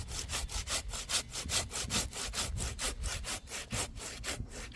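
A hand saw cutting through a pine tree branch in steady, rhythmic back-and-forth strokes, about four per second, close and clear with no talking.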